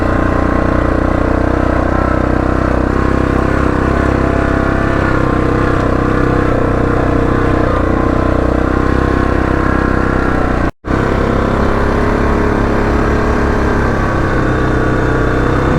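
Yamaha Grizzly 660 ATV engine running steadily on back roads, a continuous close mid-pitched drone with slight throttle variation and a brief cut near the end.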